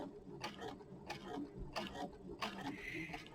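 Sewing machine stitching through a quilt, beginning with a locking stitch: a run of rhythmic mechanical ticks at a steady pace, close by, with room noise behind.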